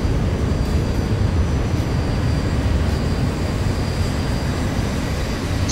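Boeing 737 jet engines in a Jet Airways livery, heard from the outside view in the X-Plane 11 flight simulator while flying over India: a steady, loud, continuous roar with a faint high whine and no voices.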